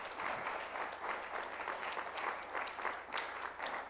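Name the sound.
congregation applause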